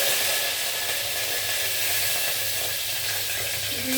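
Curry leaves and mint hiss in hot oil in a pan, a steady, dense sizzle that holds even and fairly loud for the whole stretch, with no one talking.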